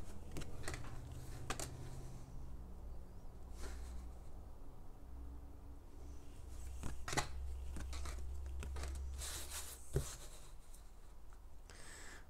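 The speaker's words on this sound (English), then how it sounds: "let's lay out all these cards here" Tarot cards being laid out on a table, with soft intermittent card slides, taps and shuffling rustles spaced through a quiet room, one sharper snap near the end.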